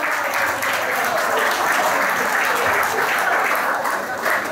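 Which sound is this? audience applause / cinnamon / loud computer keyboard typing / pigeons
audience applause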